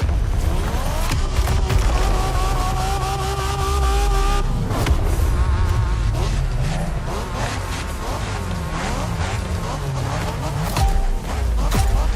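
A car engine in the racing video game The Crew Motorfest, set for Japanese street racing, revs loud and close, holding steady tones before climbing and dropping through gear changes with continuous throaty roar.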